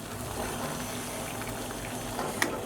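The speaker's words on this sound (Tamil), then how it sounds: "தண்ணி நல்லா கொதிக்க ஆரம்பிச்சிருச்சு" Water at a rolling boil in a cooking pot where tomatoes are about to go in for tomato jam, a steady bubbling hiss with a small splash near the end, close and fairly quiet, no talking.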